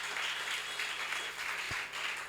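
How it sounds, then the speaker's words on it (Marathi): Church congregation applauding during a Communion Sunday service in Pune, a steady wash of clapping heard at moderate distance and fairly soft, continuous throughout. "जोरदार टाळ्या बाळक साहेबांसाठी देखील वाजवाऊया."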